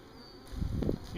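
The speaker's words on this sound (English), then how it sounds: "you can see some of the bees flying back and forth" Honey bees buzz around a backyard hive, a faint steady hum that swells briefly as insects pass close.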